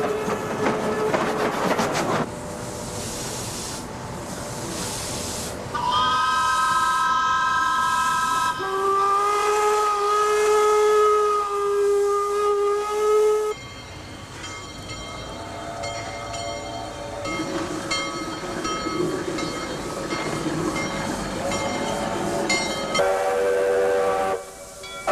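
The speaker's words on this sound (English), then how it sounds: "the week of Steam Expo brought a whole collection of steam trains together" Loud steam whistles blow repeatedly in long sustained tones over the hiss and rumble of steam locomotives running nearby at the Steam Expo gathering of Expo 86.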